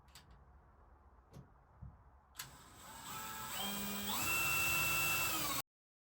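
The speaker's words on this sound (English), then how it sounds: "we're just gonna work our way around pre-drilling a hole and then putting a screw in" A power drill pre-drills holes for screws around a van window, starting with a few faint ticks, then a steady whine that rises in pitch as the bit spins up and bores in, stopping abruptly.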